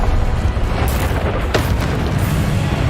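A Confringo fire spell goes off in the Hogwarts Legacy video game as a loud, sustained booming blast with rumbling low end, a sharper burst near the middle, and no pause in the roar.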